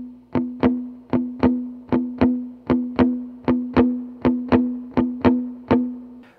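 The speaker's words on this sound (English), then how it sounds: "Today we're going to learn how to play your classic blues shuffle in E." Palm-muted electric guitar playing a blues shuffle in E: a steady swung rhythm of about sixteen short, chunky, muted strums in pairs, each dying away quickly, loud and close with no talking.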